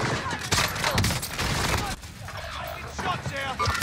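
Rapid gunfire bursts in the Warzone battle royale game crackle through most of the stretch, dense and fairly loud, with a brief lull midway, while a player talks over the shooting.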